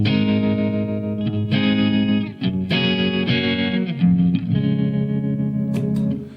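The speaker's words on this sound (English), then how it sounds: "So if I flick in the tremolo pedal," Electric guitar played through a Colour Sound tremolo pedal reissue alongside a Roland Boss GT-8 in a crunchy, almost clean tone, sustained chords that swell and pulse in several strummed phrases, loud and close with no talking.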